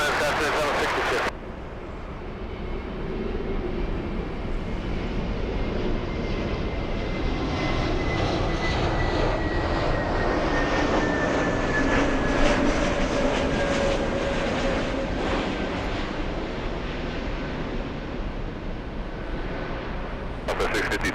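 Jet airliner taking off from runway 24 left at LAX, a steady loud engine roar rising and sustained for about twenty seconds, with a long sweeping whine across it, heard alone without talk.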